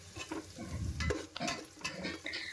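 Chopped onion goes into garlic frying in oil and is stirred, giving close, uneven scraping and clattering strokes over a light sizzle, with a few brief metallic clinks of utensil on pan.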